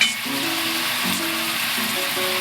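Tomato bisque is stirred in a pot on the stove, giving a steady soft sizzle and bubbling hiss with faint scraping, close and continuous, while jazz music plays quietly in the background.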